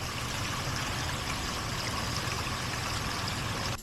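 Gray water draining from an RV holding tank at a campground, a steady rushing, trickling flow heard close and continuous for a few seconds before cutting off abruptly at the end.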